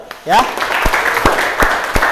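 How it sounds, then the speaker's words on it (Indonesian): Students in a classroom clap in unison during a teacher's practice-teaching lesson, a brief voice at the start giving way to steady, rhythmic claps at roughly even intervals under a busy room murmur. "Kasih tepuk tangan dulu ya."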